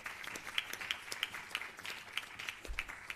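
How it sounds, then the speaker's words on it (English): An audience applauds at a regional launch event in the Caribbean, with scattered, fairly faint clapping from a modest crowd heard at a distance. "And that deserves a big round of applause."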